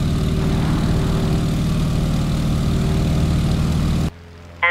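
A Stearman biplane's radial engine in a flight game, throttled to full for takeoff: a steady, loud, low propeller drone that holds constant, then cuts off abruptly near the end.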